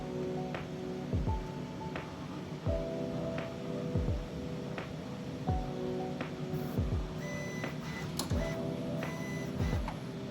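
3D printer tool head moving during calibration, repeated short motor whines and soft thuds every second or so at a regular pace, fairly quiet and close, with no talk.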